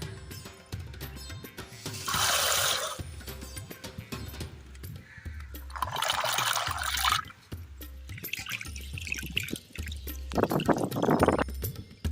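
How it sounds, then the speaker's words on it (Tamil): Toor dal and raw green peanuts are washed in water in a home kitchen, making several bursts of swishing and splashing with quieter pauses in between and a louder sloshing spell near the end, with no talking. "இப்போ இது தண்ணியில் போட்டு கழுவிக்கலாம்."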